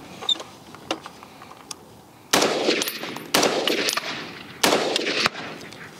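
A PSA Sabre 10 rifle fitted with an adjustable gas block fires three loud outdoor shots spaced about a second apart, each a sharp crack trailing into a rolling echo, after a few quiet clicks and handling noises.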